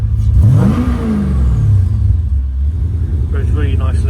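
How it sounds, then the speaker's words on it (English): A Mercedes AMG M113 V8 in a W202, running on a standalone engine management setup, revs up once in a rising, deep throttle blip, then settles back to a rumbling idle close by. "Let's give a bit of rev up so you can see how she revs."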